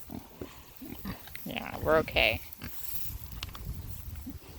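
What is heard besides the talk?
pig (sow) grunting on a farm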